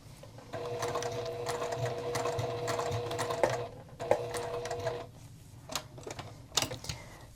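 A sewing machine stitching a monster-style circle bag runs in a steady whirring hum for several seconds, then stops and starts in short bursts with faint clicks, close and clear.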